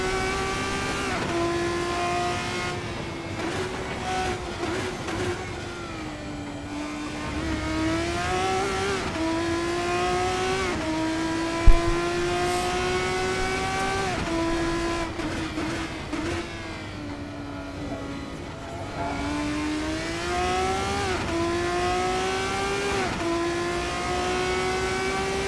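A Formula 1 race car engine in the F1 24 video game screams at high revs, its pitch climbing and dropping repeatedly through gear changes, loud and close, with one sharp knock midway.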